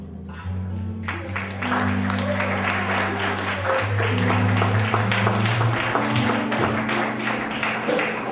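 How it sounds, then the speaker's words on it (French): Applause rises for a poet's first performance at a poetry event, clapping building and continuing over sustained low music tones, fairly loud and steady. "on applaudit s'il vous plaît"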